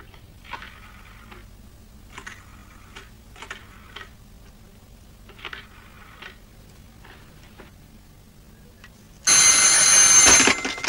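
An old telephone bell rings in a 1938 detective film, several short buzzing rings in rhythmic bursts separated by quiet gaps, followed by a loud sustained noise at the end.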